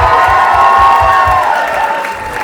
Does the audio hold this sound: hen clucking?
no